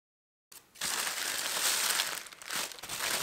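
A cardboard box holding a 120-pencil Caran d'Ache Pablos colored pencil set is opened up close after a moment of silence, followed by loud, continuous crinkling and scraping of cardboard and packaging.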